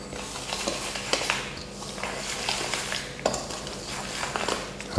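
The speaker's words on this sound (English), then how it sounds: "And we're going to just whisk away." A whisk scrapes and clatters steadily against a bowl, with irregular knocks and clinks as it works through a thick, heavy sweet potato pudding batter, close by.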